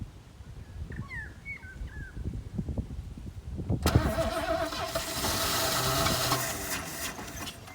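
A carbureted engine on a project vehicle cranks after the carburetor is pumped, rough mechanical turning and clattering that catches into a loud, steady running roar partway through, close to the microphone, with a dog whimpering faintly beforehand.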